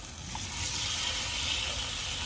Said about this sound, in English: That sizzle, that sear action.